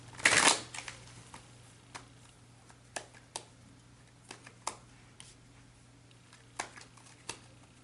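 Tarot cards being shuffled and drawn, a loud riffling burst at the start followed by scattered soft taps and card slaps over a quiet room hum.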